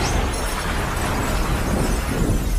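An explosion scene in a Jet Li action film: loud, sustained blast with a dense rumbling roar and crackling debris that continues steadily for a few seconds, with no voices.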